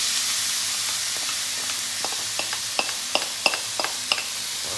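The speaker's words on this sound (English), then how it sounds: "I'm gonna go ahead and add in my onion." Chopped onion for crock-pot chili hits hot oil in a pot and sizzles in a steady, close hiss, while spoon stirring adds scattered light scraping clicks.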